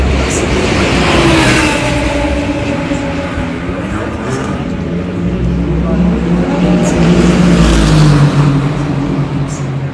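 A race car with a roughly 350-horsepower engine drives hard in a 24-hour endurance race, giving a loud, continuous droning engine roar whose pitch shifts and swells throughout.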